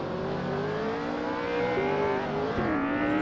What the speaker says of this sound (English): Revving their engine.